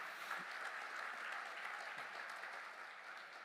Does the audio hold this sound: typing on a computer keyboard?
no